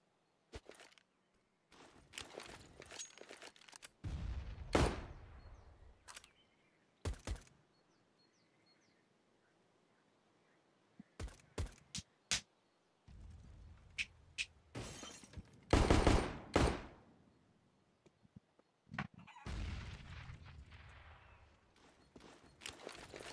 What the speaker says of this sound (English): Pistol round action taking place.